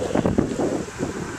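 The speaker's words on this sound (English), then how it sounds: "Still windy, you guys can hear it." Strong wind gusts outdoors on a stormy November day in Chatham, buffeting the microphone with loud, uneven rushing bursts over a short moment.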